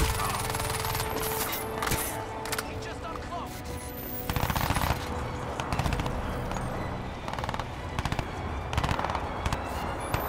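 Enemy gunfire in the video game Crysis 2, bursts of automatic shots and scattered single cracks mixed with other game effects, fairly loud and continuous.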